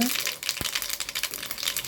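Mustard seeds and cumin crackle and sizzle in hot oil for tempering, a dense, continuous spitting noise up close.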